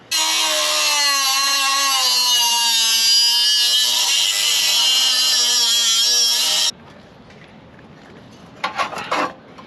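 A cordless power tool saws steadily through a vehicle bumper for several seconds with a loud, harsh whine, then cuts off abruptly, leaving quiet handling noises and a few brief clatters.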